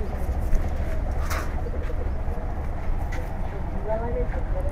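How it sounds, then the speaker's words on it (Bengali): A Giribaz pigeon cooing at a loft, soft low coos heard several times over steady background noise. "খুব সুন্দর একটা কবুতর।"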